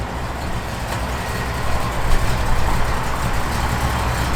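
A 1963 Chevrolet Impala idles with a lumpy cam, giving a steady, loud, rumbling engine drone with a slight irregular lope and no voices.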